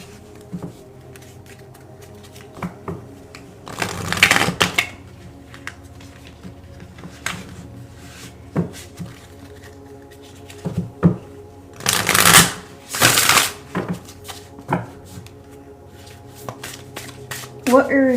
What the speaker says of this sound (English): let's pull more cards and see what else we have